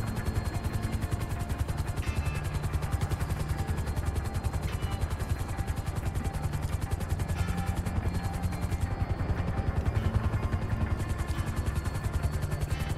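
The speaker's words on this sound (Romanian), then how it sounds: "Ce fain zboară cu avionul" Aircraft in the video game GTA 5 flying with a steady rapid rotor-like chop over a continuous engine drone, loud and unbroken throughout, with no speech.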